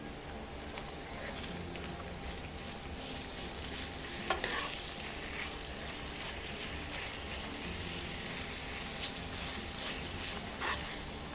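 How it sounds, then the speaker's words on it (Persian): Diced onion and ground meat sizzle steadily in a frying pan, with scraping stirs and occasional clacks of a utensil against the pan, no talk. "یک عدد پیاز نگینی خرد شده رو داخل تابه بریزید. تفت بدید تا سبک بشه."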